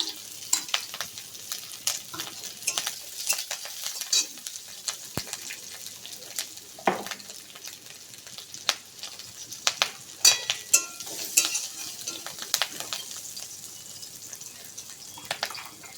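Chopped garlic, onion and green chili frying in mustard oil in a kadai, a soft steady sizzle with scattered crackles and stirring clicks, fairly quiet and close, with no one talking over it.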